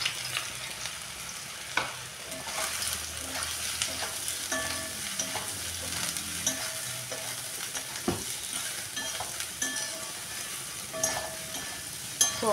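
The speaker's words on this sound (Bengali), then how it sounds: "এবার আমি সোয়াবিনগুলো ভেজে নেব।" Squeezed soybean chunks fry in a pan with a continuous, dense close-up sizzle, punctuated by occasional sharp clicks and scrapes of a utensil against the pan.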